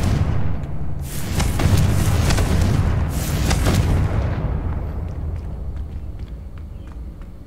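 A Confringo spell explosion in the Hogwarts Legacy video game, loud booming blasts in the first few seconds that roll off into a fading rumble with faint scattered debris.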